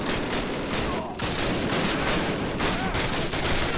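Call of Duty submachine gun fire chatters in a loud, dense, continuous burst with brief dips, filling the whole stretch with rapid automatic shots.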